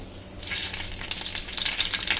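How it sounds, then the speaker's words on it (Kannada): Sambar leaves (doddapatre) and dried red chillies hit hot oil and burst into a loud, steady sizzle, crackling and spitting continuously with no one speaking. "ಫಸ್ಟು ಸಾಂಬಾರ್ ಸೊಪ್ಪು ಮತ್ತು ಒಣಮೆಣಸನ್ನ ಎಣ್ಣೆನಲ್ಲಿ ಹುರ್ಕೊಬೇಕು"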